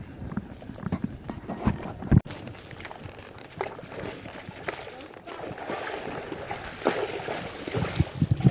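Horse hooves clop along a trail at Kings Mountain State Park in South Carolina during a horseback ride, a steady walking rhythm of soft, close thuds mixed with rustling and outdoor noise.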